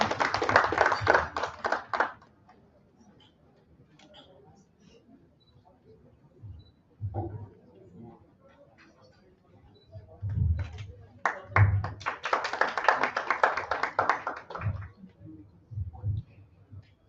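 At a live-streamed cloud professionals event, an audience welcomes a speaker onto the stage with two short bursts of clapping, one at the start and a longer one later, separated by quieter stretches with some talk, all fairly faint.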